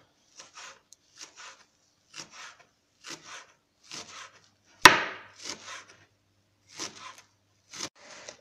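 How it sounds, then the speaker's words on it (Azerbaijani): A knife chops bunches of fresh cilantro, dill and mint on a board in steady, crisp strokes. The strokes come in short bursts of about a dozen, with one louder knock partway through and no talking. "İndi göyərtilərimizi doğrayaq."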